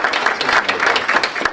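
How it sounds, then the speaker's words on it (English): A crowd applauds an artist's mother at a public talk, a dense, close burst of clapping filling the short moment. "Can we give her a round of applause?"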